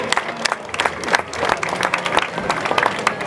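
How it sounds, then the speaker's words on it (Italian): An audience applauds a town councillor at the opening of the 29th Infiorata del Corpus Domini flower carpet festival in San Pier Niceto, giving a brisk spell of clapping with crisp individual claps standing out. "facciamo un bel applauso all'assessore"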